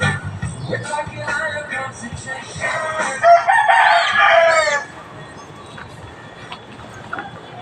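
A rooster crows loudly once, with chickens clucking and faint background noise around it.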